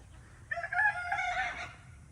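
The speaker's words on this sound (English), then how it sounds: "that rooster's having trouble" A rooster crows once from somewhere near a garden where pine straw mulch is being spread, a single drawn-out call at moderate distance with no talking.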